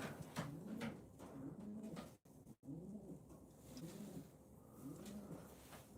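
Racing pigeons in a cold-weather loft coo steadily in soft, repeated rolling calls, several birds overlapping at close range, with a brief clunk and two short dropouts partway through.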